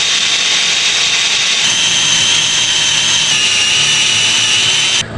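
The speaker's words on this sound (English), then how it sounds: "I'm gonna drill the holes out slightly bigger" A power drill whines at high speed while boring holes slightly larger, running loud and continuous before it stops abruptly at the end.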